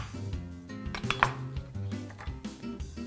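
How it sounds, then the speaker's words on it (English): An onion roughly chopped with a knife, a few soft, irregular cuts against the board over a low kitchen hum, close and moderately quiet. "And now we'll do our onion. We're just going to do a rough chop here."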